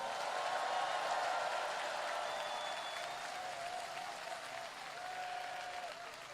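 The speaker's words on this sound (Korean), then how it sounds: "격려의 박수 부탁드립니다." Steady applause from an outdoor political rally crowd for a Democratic Party campaign event in Ansan, dense and continuous, with faint voices and a whistle-like tone above it.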